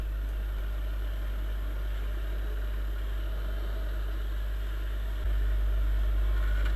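Yamaha Dragstar 400 motorcycle engine running steadily while riding on a road, a low constant drone with a slight shift in pitch near the end, no talk.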